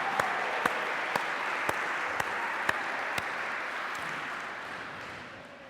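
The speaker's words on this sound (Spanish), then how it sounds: "Dale fuerte ese aplauso al Rey de Gloria." A church congregation applauds steadily, a dense wash of clapping at moderate distance with a few sharp, louder claps standing out in a slow regular beat, fading slightly at the end.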